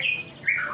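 A white-rumped shama (murai batu) songbird, a young bird in smooth condition offered for sale in Medan, gives two bright, harsh squawks close to the listener with no talk over them.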